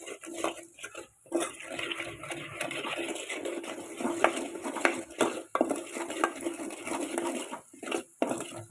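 A spoon scrapes and stirs spice masala in a pan for chicken curry, steady metallic clinks and scraping strokes continuing close and fairly loud with no talk.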